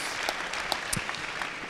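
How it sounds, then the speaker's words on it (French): An audience at a junior enterprise club conference-debate bursts into brief, dense clapping, a continuous patter of many hands heard up close. "On va l'applaudir."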